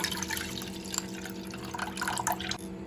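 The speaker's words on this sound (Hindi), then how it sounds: "बोल में सबसे पहले जो अदरक लहसुन के पानी बनाया वो ले लेंगे छान के।" Ginger-garlic water is strained into a bowl, a soft steady trickle and dripping of liquid heard close and quiet for a few seconds.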